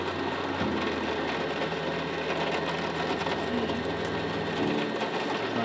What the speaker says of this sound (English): we're going to just put a couple of holes through it